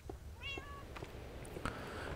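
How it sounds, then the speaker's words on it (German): Cats meowing in Minecraft, two or three short separate meows over faint low rumbling rain, with a couple of soft clicks in between. "dafür habe ich hier zu viele Katzen"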